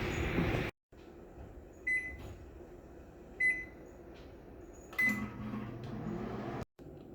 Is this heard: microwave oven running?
yes